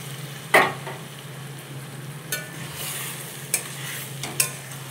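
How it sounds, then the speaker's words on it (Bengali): Coriander-marinated green chicken sizzles in a pan under a steady frying hiss, with a few sharp stirring scrapes and clinks close by. "ধনেপাতা দিয়ে মাখানো চিকেনটা আমি দিয়ে দেবো।"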